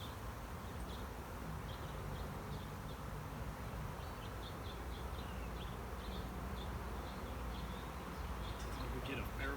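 A honeybee swarm hums in a steady, faint, even drone that lasts the whole stretch, with a few individual bees buzzing past now and then.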